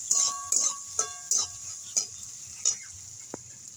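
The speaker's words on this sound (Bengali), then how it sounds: "এবার আমি দিয়ে দেবো কুড়িয়ে রাখা নারকেল। নারকেলটা একটু নেড়ে চেড়ে নেব" Grated coconut is stir-fried in a pan, and a spatula scrapes the pan in about six evenly spaced strokes over a low, quiet sizzle.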